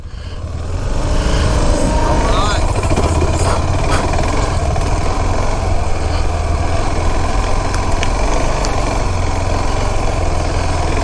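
An adventure motorcycle is ridden through sand during rider training. The engine holds a loud, steady drone throughout, with a rougher undertone from the bike working in the sand.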